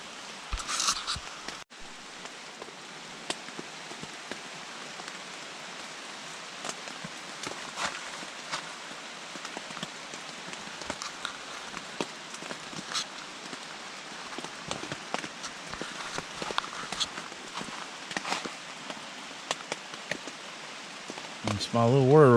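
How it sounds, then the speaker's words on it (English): Rain falls steadily on a lakeside campsite at Wolf Creek Lake, a constant soft hiss with scattered louder drops tapping on nearby surfaces, moderate and unbroken throughout. "wait for it to stop raining or wait for it to slack off a little bit"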